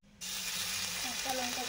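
Black cumin and a pinch of asafoetida hit hot mustard oil, bursting into a loud, sudden hiss that holds steady as a close, bright sizzle, with a faint low hum underneath.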